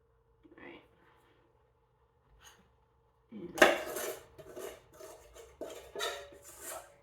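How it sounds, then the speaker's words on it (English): A stiff plastic spatula scrapes Pane Carasau dough out of a bowl, giving scattered scraping and clattering knocks against the bowl that grow busier midway, with quiet talk in the background. "plastic stiff spatula. It's great for just getting those things out of bowls."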